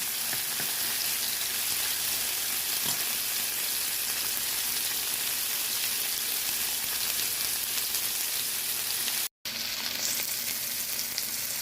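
Salmon steaks fry in grapeseed oil in a pan, a loud steady sizzle and crackle filling the whole stretch, with a brief dropout near the end and no voices.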